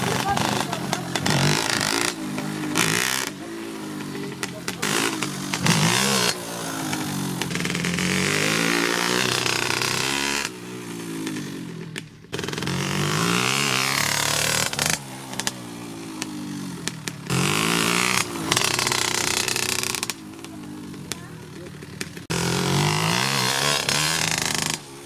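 A KTM SX65 two-stroke motocross bike runs continuously, its engine revving up and down with rising and falling pitch as it is ridden, fairly loud and close throughout, with short drops in between.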